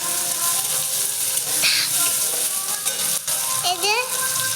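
Spices sizzle and crackle in hot oil in a village kitchen pan while being stirred, a steady close frying hiss with a few scraping strokes, without any talking.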